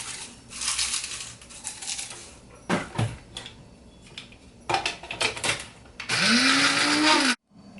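A kitchen blender grinds dry shrimp shells into powder in short loud bursts, with clattering of dishes and utensils between the pulses. A final long whirring run rises in pitch before cutting off abruptly.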